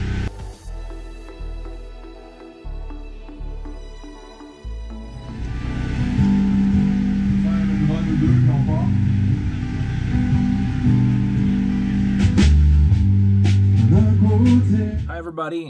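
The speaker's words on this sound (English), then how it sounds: "Sorry about the noise. There's a generator going" A generator runs at an outdoor band gig, a loud steady low drone that swells in after a few seconds and holds throughout, with faint clatter and tones over it.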